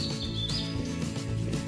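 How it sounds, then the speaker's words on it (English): Birds chirp and tweet in a forest park in Zushi, Kanagawa, Japan. Thin, high calls and short song phrases sound at moderate distance over a soft, steady background, with no voices. "Hear the birds singing?"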